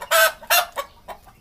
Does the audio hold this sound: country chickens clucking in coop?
yes